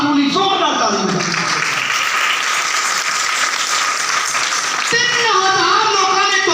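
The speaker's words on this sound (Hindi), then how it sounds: "पाक रूह दी जोर नाल ताली बजाओ" A church congregation claps loudly and thickly during a sermon. The clapping is near and sustained for several seconds, and voices speak at the start and again at the end.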